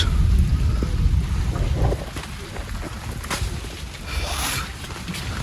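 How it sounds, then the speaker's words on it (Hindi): Heavy, steady rain pours down outdoors during a tractor recovery with rope and chains, a dense hiss with scattered sharper spatters, loud throughout, with a few faint crackling bursts over it. "लगातार जारी है बारिश"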